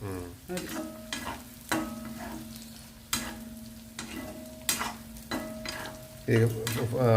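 Onions frying in oil in a pan for semiya upma, a steady sizzle broken by repeated stirring clanks of a spoon against the pan at roughly regular intervals, no talking.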